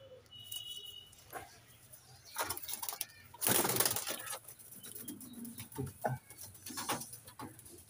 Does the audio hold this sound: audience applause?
no